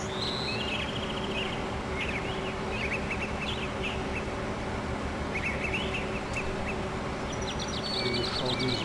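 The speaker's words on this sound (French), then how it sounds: "Et le chant des oiseaux, tu l'entends, le chant des oiseaux." Birdsong ambience in the farming game Farming Simulator 15: scattered high chirps and short trills come and go over a steady low background hum, moderately loud throughout.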